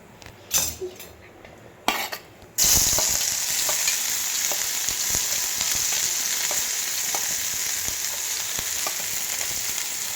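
Green chillies drop into hot oil for an egg bhurji, bursting into a loud, steady crackling sizzle after a few sharp clatters, with occasional spoon clinks against the pan throughout.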